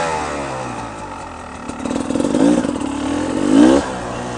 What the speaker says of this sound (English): So another fantastic thing about a two-stroke. Man, this thing fires right up.